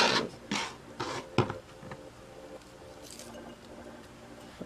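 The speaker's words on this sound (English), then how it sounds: "we're going to start off by putting some of the red onions into our mason jar" Pieces of red onion are dropped into a glass mason jar, making several soft, squishy thuds and light taps in close succession, then quieter handling sounds.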